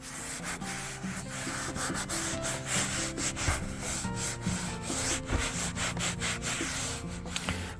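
A sponge rubs leather protector onto a car's leather seat, giving a close, continuous scrubbing sound in quick back-and-forth strokes with no voices.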